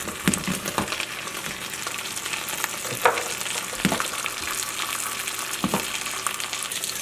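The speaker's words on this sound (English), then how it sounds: "As you start to hear the butter simmer and kind of pop" Anna potatoes fry in butter in a pan, giving a steady close sizzle broken by occasional sharp pops and crackles, with no talking.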